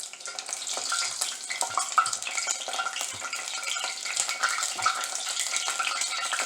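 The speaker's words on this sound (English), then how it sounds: "I'm going to drop it right into the oil and let it cook" Portions of canned cream corn frying in hot oil, giving a steady, close sizzle and crackle with soft bubbling that runs unbroken throughout, no voices.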